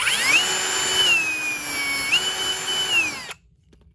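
A power drill bores with its bit under light pressure, giving a steady high-pitched whine that dips slightly in pitch, rises again, then cuts off abruptly into near silence.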